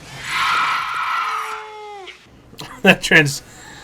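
A cat in a horror TV episode lets out a long, loud, strained yowl that bends into a descending screech and fades, then gives several shorter, sharp cries.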